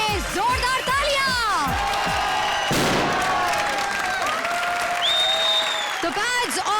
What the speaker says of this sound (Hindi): चारों टीम्स के लिए जोरदार तालियां।